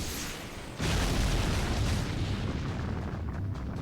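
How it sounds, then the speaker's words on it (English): A magical energy blast fired from behind in Fate/Grand Order erupts after a brief quiet, becoming a loud, sustained roaring boom with heavy low rumble that holds steady for several seconds with no talk. "someone's firing magical energy blast at us from our 6 o'clock"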